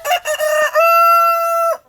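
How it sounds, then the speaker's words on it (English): Backyard chickens: a few short clucks, then a loud, close rooster crow held as a long bright call before cutting off into silence. "We love our chicken so much."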